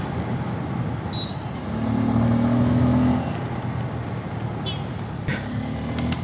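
A motorcycle engine hums steadily close by, with a brief rise in revs in the middle before it settles back to idle. Faint clicks and knocks sound around it, and no one talks.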